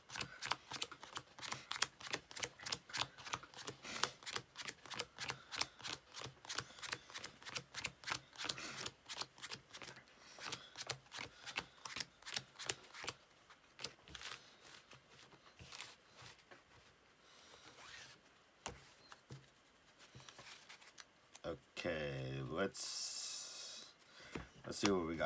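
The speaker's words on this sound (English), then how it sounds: "So we're going to power shuffle. We're gonna shuffle this up quickly." A 50-card trading card deck is riffled quickly in rapid bursts of crisp flapping, then a pause and a few louder handling rustles near the end; it sounds close and fairly quiet.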